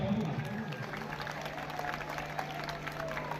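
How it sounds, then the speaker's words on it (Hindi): Steady applause from a crowd at a school cultural program, a continuous wash of clapping with a low hum underneath, moderately loud and sustained throughout. "तो एक बार दोस्तों मंत्री जी के जोरदार तालियां"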